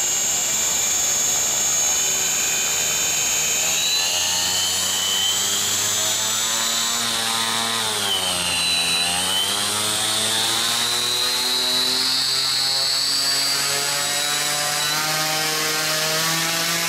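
An electric sustainer motor for a Predator 37 spins up in a burst test, making a loud, steady whine with a buzzing drone that holds, dips briefly in pitch and then climbs again, with no talking.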